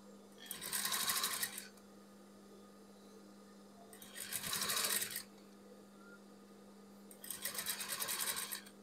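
A sewing machine stitches a shirt collar in three separate bursts of fast, buzzing runs, each lasting about a second, with a low steady hum in the pauses between them.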